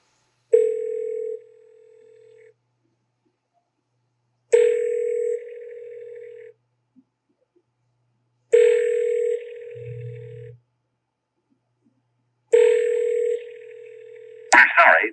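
A telephone rings back in four evenly spaced bursts, each a steady tone lasting about two seconds with pauses between, heard clearly with a brief low blip partway through while calling a game company's service line.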